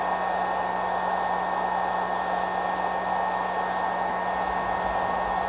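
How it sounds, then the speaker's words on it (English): A heat gun blows a constant, even hot-air roar while shrinking wrap onto an 18650 lithium battery cell, held steady and close for several seconds with no talking. "So I'll just heat this up a little bit and shrink it on there."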